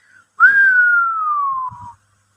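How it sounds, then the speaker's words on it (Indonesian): A single long whistle, clear and loud, sliding slowly downward in pitch for about a second and a half against silence. "satu siulan membeset tengah langit malam"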